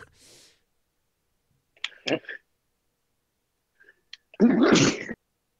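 A single loud sneeze bursts out near the end, preceded by a few quiet sniffs and short vocal sounds.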